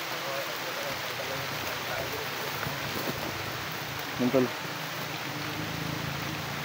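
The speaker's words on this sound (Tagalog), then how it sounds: "Tol, umulan na." Steady rain falls outdoors, a continuous even hiss across the whole stretch, with someone speaking over it and a brief knock partway through.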